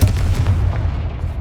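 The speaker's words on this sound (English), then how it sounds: "Confringo!" Confringo blast spell explosions in the video game Hogwarts Legacy, a run of deep booming bursts with heavy low rumble, loud and close, repeating rapidly over a second and a half.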